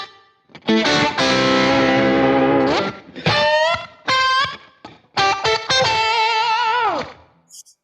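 Electric guitar solo, distorted and run through a pitch-shifting effect, with sustained notes that bend and slide between pitches in loud phrases separated by short gaps.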